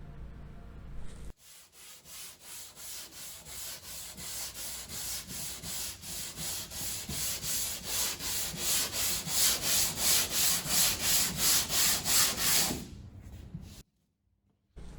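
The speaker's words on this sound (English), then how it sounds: "As you can see, it's very easy to sand and requires little effort to create that seamless joint." Dried Wondertex Prem Fill and Finish filler is sanded by hand in a steady back-and-forth rhythm of rasping strokes that grow louder and faster, then stop abruptly.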